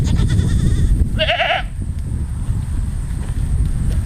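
A myotonic fainting goat from a herd in Vermont lets out a single short, wavering bleat over a steady low outdoor rumble, with no other animals clearly standing out.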